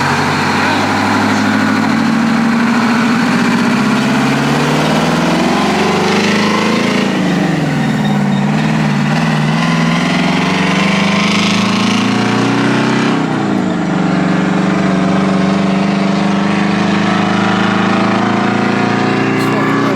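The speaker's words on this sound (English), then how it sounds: "Said it runs better when it's warm." The engine of a 1973 Diamond Reo truck runs close and loud, a steady heavy diesel drone with its pitch sagging and climbing as it is revved, continuous throughout, with talking over it.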